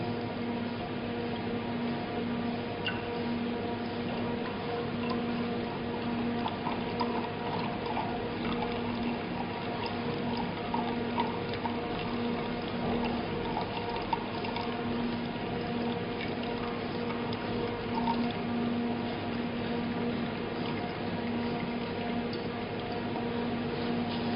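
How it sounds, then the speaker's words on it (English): Water pours steadily into an empty glass beaker, leaving sediment behind, in a classroom experiment: a continuous close liquid trickle and gurgle that holds level for the whole span with no talk. "take another empty beaker and pour the water without disturbing sediments."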